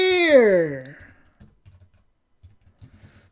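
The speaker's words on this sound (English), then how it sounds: "And then type hello world, I am here." A short sliding tone opens, then a few soft, scattered keystrokes tap on a computer keyboard, quiet and close, with pauses between them.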